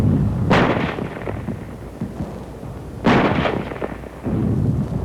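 German 75 artillery gun firing, two heavy booming blasts a few seconds apart with rolling echoes in between, loud and sharp against a low rumbling background.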